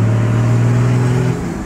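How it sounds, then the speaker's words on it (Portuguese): A lowered Chevrolet Silverado pickup's engine holds a loud, steady low drone heard from close inside the truck, then the pitch drops slightly as it eases off near the end. "Agora o barulho de caminhão não tem igual"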